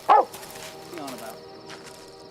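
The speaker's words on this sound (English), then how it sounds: "the normally serene hillsides of England's Lake District resounded with the barking of dogs" Dogs in a search party on the hillsides of England's Lake District give one loud, sharp bark, followed by fainter yips and whines over a low background.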